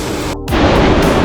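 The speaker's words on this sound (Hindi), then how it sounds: "क्या गजब वाटरफॉल।" Rainbow Falls roars as a steady, loud wash of falling water, broadband and unbroken, briefly dipping and then swelling back over a little more than a second.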